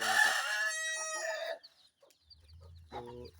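A rooster crows loudly up close, followed by a brief pause and then softer clucking from chickens nearby.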